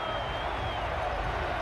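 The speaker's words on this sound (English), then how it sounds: "I swear that crowd is so much louder" Crowd noise from the Huttball arena in Star Wars: The Old Republic PvP, a steady, dense roar of cheering spectators that fills the whole moment without pause.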